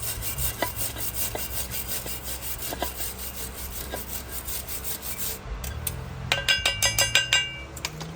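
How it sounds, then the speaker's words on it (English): A brush scrubs rust off a brake caliper bracket on a 2012 BMW during a brake pad replacement, with steady close rasping strokes that turn faster and rhythmic toward the end, along with faint metallic clinks. "Brushing off rust from the bracket before you putting a new brake pads on so they can slide"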